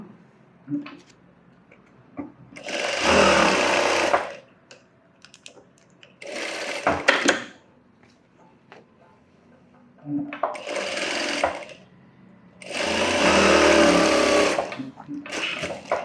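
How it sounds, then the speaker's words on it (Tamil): An electric sewing machine stitching around a blouse piece runs in several bursts of a few seconds each, whirring loudly and close, with quiet pauses and small handling clicks between runs. "இப்போ இதை சுற்றி நம்ம தையல் போட்டுடலாம்"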